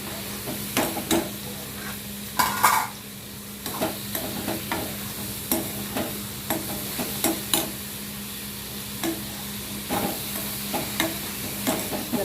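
Tomatoes for an okra chutney are sautéed in a pan, with a steady sizzle under repeated scraping clicks of a spoon stirring them at an even rhythm, close and moderately loud, no talk.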